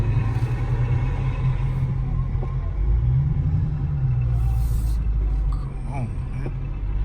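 Steady low rumble of city street traffic in Manhattan around 96th Street, heard from inside a 2019 Dodge Charger Scat Pack, a continuous engine and road drone with a few faint passing sounds and a voice speaking.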